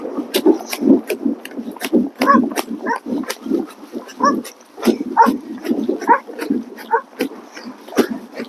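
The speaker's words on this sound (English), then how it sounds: "Could be the dog." A dog breathing and panting in rapid, rough bursts close by, with sharp clicks and snorts repeating steadily throughout.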